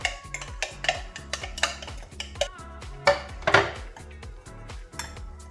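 Chili paste being scraped and spooned from a plastic grinder jar into a bowl, with a series of close, sharp clinks and taps of utensil against dish and a brief rattle near the end, no talking.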